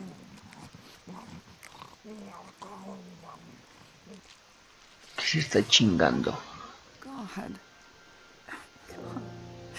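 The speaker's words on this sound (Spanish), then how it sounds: "Creo que un perro." A dog in The Walking Dead video game whimpers and barks in a short loud burst midway, amid game ambience with people talking before and after.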